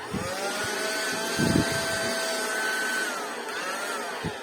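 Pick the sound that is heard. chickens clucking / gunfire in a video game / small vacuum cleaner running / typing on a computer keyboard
small vacuum cleaner running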